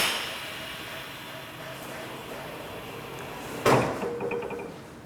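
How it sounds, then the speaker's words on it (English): An ACRO machine's door pivot gives a single sharp mechanical clunk near the end as it raises and clamps, after a steady low hum of machinery. "Hit door pivot up once to bring it up to level. Hit it a second time to clamp it in."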